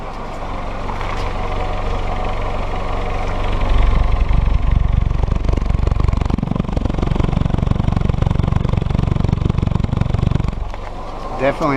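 A Willys CJ2a Jeep with its L134 engine runs at a steady idle, loud and close, with a deeper, rougher rumble swelling from about four seconds before easing near the end.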